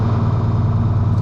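A tractor engine idles steadily and loudly up close, a continuous low rumble with no talk, heard from the cab during winter feed loading.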